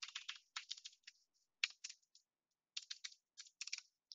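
Artifact IDs are typed on a computer keyboard in quick, uneven bursts of light clicking keystrokes with short pauses between, close and quiet, with no voices.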